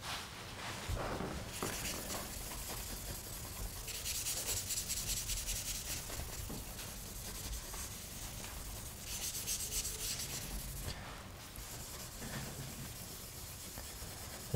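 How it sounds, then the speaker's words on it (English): Cloth buffing excess wax off the surface of an expensive keyboard, giving a close, steady rubbing and swishing that rises and falls in strokes with short gaps. "we want to then buff away the excess"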